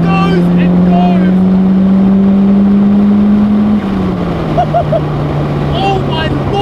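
Ford Laser TX3 AWD turbo hatchback engine pulling hard, a loud, strained drone that climbs steadily then drops as the gear changes, with wind rush and faint chirps over the top.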